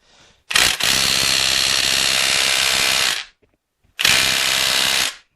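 A power tool spins loose the 13 mm bolts on a transmission cable bracket of a Monte Carlo SS, with two loud close bursts of whirring ratcheting, the first about three seconds long and the second shorter, separated by near silence.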